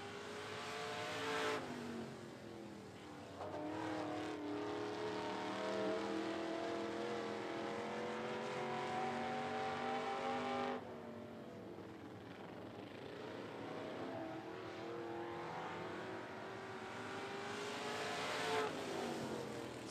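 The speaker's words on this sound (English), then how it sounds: "First on the racetrack for one lap of qualifying for the Street Stock Shootout" A street stock race car runs a single qualifying lap at 411 Motor Speedway. Its engine roars past close by, rising and falling in pitch as it passes twice, loud and with no voices.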